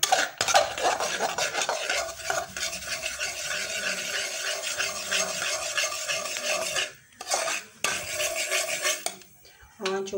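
Spoon scraping through semolina roasting in a pan, a continuous close gritty rubbing with metallic clinks, rhythmic strokes that briefly pause near the end; nobody speaks.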